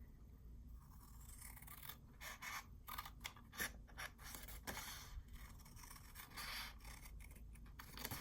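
Scissors snip along the sides of a small paper artist trading card, a quiet close run of crisp cuts and rustles coming in irregular bursts with short pauses between them.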